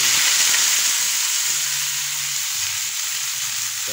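Sweet potato shoots fry in hot oil with a steady, close sizzle and crackle that fades slightly over a few seconds, with no talking.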